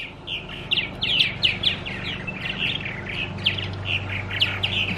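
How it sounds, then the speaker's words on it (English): Purple martins at a large multi-unit birdhouse set off a busy, continuous chatter of overlapping chirps and squawks. The calls are moderately close over a low background hum, and nobody speaks. "My dad has this Purple Martin mansion, and all the Purple Martins are going crazy."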